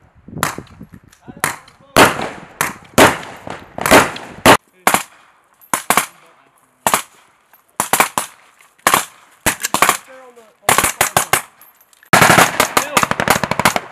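Machine gun fire during a joint training exercise of U.S. Marines and Finnish soldiers, heard as loud, close bursts of rapid automatic shots separated by short pauses, with a sustained heavy stream near the end.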